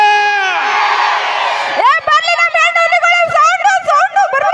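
A large crowd at a folk stage show in Indi taluk roars loudly for nearly two seconds, then breaks into sustained high whoops and cheers that rise and fall close by, with no other sound over them.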